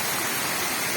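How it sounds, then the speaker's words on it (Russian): Water pouring over the Tsaritsyno dam from the upper pond into the middle pond, flowing out from under ice. It makes a steady, close, full rushing roar with no pauses. "Видите, как изо льда, из-под льда течет, так круглый год течет вода."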